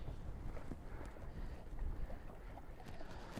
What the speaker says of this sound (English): Whew, windy.